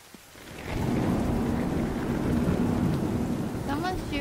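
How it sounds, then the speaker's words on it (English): Steady rain and rumbling thunder fill a stormy scene in the video game Division 2, the dense wash swelling after a quiet start and holding loud throughout, with faint game chirps near the end. "Now, if only it stopped raining."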